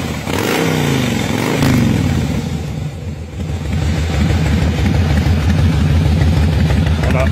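Fuel-injected Harley-Davidson Fat Boy 1584cc V-twin idling in the classic uneven potato-potato lope, loud and close and running steadily, with a brief blip and a short tonal whine near the start.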